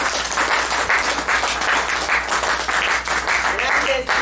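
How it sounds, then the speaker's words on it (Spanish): Church congregation clapping in praise during a worship service, a steady dense wash of applause that carries on throughout with voices mixed in. "Dale una ofrenda de palmas al Señor Jesús"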